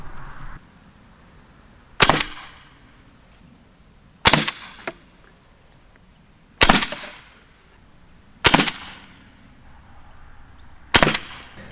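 An Umarex HDR68 CO2 pistol fires five sharp, loud shots spaced about two seconds apart, each a hard crack with a short ringing tail over a quiet background.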